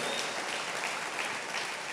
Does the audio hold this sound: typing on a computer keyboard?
no